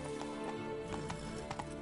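Quick, rhythmic hoofbeats of the horse Roach galloping in The Witcher 3, a rapid clip-clop over a low musical hum, fairly quiet and close.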